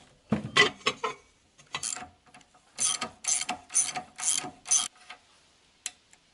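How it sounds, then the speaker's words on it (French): A wrench loosens the two nuts at the end of a front axle on a Citroën Traction 11B, giving close, sharp ratcheting and metallic clicking in repeated bursts separated by short pauses. "déblocage des deux écrous en bout d'axe"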